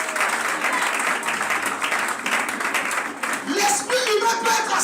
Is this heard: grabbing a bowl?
no